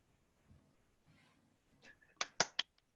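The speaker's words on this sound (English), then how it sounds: "That's me clapping." A few sharp hand claps ring out close by in a quiet room after a presentation, three or four quick loud slaps following faint rustling.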